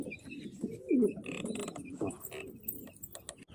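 Homing pigeons in a loft give soft, low cooing calls close by, a short burst of throaty coos standing out over a busy background of rustling and faint chirps, with no talk.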